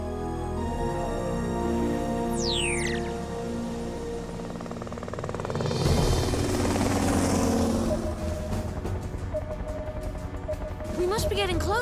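A helicopter flies in a stop-motion Transformers cartoon, its steady, loud rotor roar running throughout beneath ongoing dialogue and a few whooshing effects.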